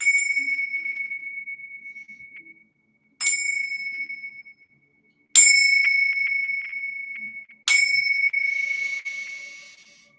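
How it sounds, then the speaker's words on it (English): Bells and chimes rung before a tarot card reading: four separate clear metallic strikes, each ringing out and slowly decaying, with brief silences between them and a shimmering chime flourish on the last. "I'm going to ring the bells as you all take some deep breaths before we pull cards"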